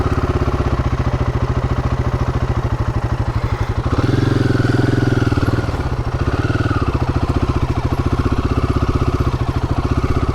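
A small Royal Enfield Himalayan off-road motorcycle idles and putters at walking pace with the clutch slipping in the friction zone, a steady close rumble that swells briefly as the engine pulls harder.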